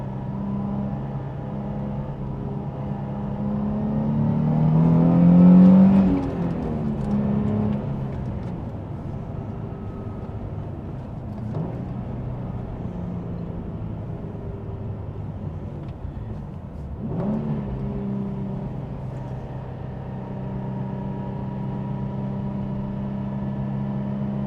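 A 2003 Nissan 350Z with the VQ35DE engine pulls hard in second gear, its engine rising to a peak then settling into a steady cruising drone with a whining transmission tone, heard from inside the car.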